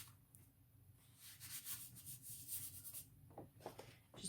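Paper being burnished down by hand after alcohol ink blowing, a soft dry rubbing that comes in uneven scratchy strokes, moderately close and quiet, with a brief pause near the end.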